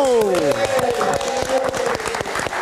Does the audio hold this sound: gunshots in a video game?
no